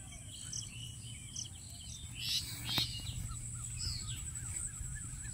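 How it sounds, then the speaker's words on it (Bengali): Birds chirping outdoors in the Natore countryside among date palms and field ridges, faint scattered tweets and calls over a steady insect drone, with one brief louder chirp cluster near the middle. "পাখির কিচির মিচির শব্দ"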